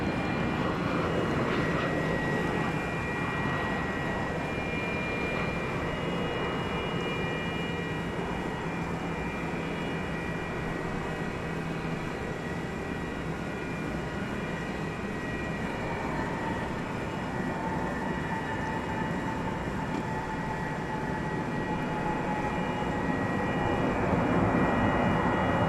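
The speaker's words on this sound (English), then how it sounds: "we've got a plane coming in from Puerto Vallarta in Mexico" A Boeing 737-800 airliner arriving on a runway at DFW Airport at night, a steady, loud, broadband jet roar that holds throughout with no speech.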